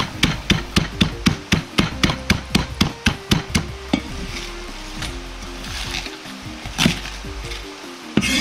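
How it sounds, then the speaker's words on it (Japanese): A rapid series of sharp, heavy knocks on a wooden board as cabbage is pounded with the flat of a knife, about a dozen evenly spaced blows, then a few scattered thuds and scraping. "芯の部分は包丁の腹で強めに叩き潰します"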